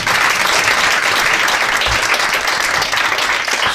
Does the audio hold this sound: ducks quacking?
no